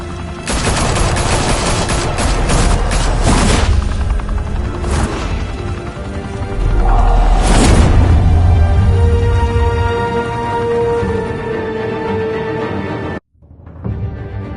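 Loud bursts of automatic gunfire and shots ring out in the video game Batman: The Telltale Series, rapid volleys with a crash and boom, ending in abrupt silence.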